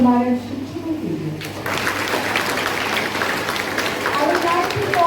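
Students and audience at a school patriotic event clap for their teachers; a voice speaks first, then loud, steady applause swells and continues, with brief talking over it near the end.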